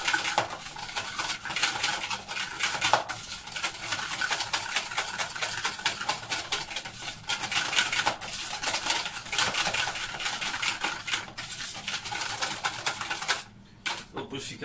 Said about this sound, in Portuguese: Queijo Filadélfia e gema, vamos mexer muito bem isto.